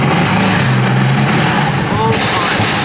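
A Mercedes C63 S engine roars steadily at high revs, loud and close, with people talking over the noise.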